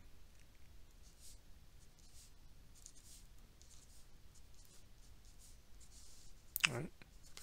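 A pen or marker writes out an augmented matrix by hand for Gaussian elimination, giving faint, soft scratching strokes over quiet room tone, with one brief, louder sweep near the end.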